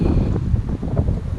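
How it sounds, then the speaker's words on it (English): Easterly onshore wind gusting at Mussel Rock beach below coastal cliffs, a steady low rumbling buffet against the microphone with uneven surges throughout and no voices. "There's an easterly wind blowing, an onshore wind."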